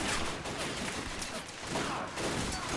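Rifle fire and grenade blasts in a WW1 winter battle video game, with German soldiers storming French defenses: a continuous rattle of distant gunfire and rumbling detonations that stays fairly quiet, with a slight dip midway.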